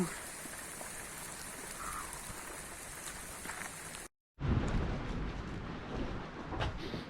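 Steady rain patters on a surface during a July thunderstorm on Ostvytsia, a dense hiss that briefly cuts out, then resumes just as heavy.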